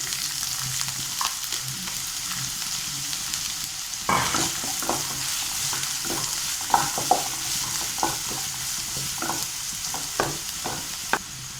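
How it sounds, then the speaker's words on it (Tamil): Onions frying with clove, fennel and other spices in a pan sizzle steadily up close, with repeated clacks and scrapes of a stirring spoon growing busier partway through, no talk. "எடுத்து வச்சுருக்க வெங்காயத்தை ஆட் பண்ணிப்போம்."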